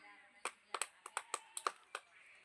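Children at a prize game clap their hands in about ten sharp, separate claps over two seconds, close and fairly loud against a quiet room.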